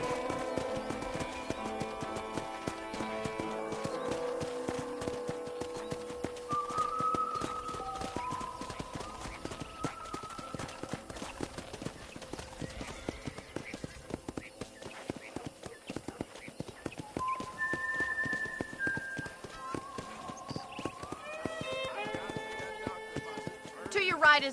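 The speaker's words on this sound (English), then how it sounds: "let's see if you can still ride a horse" Horse hooves clip-clop at a steady riding pace in a cowboy video game, a soft rhythmic patter under background game music, with no talk over it.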